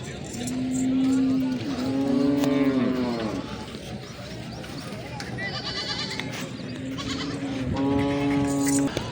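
Beetal goats bleat at a livestock market in Chakwal, Pakistan, with a couple of drawn-out nasal bleats rising above a steady crowd and traffic din while someone talks nearby.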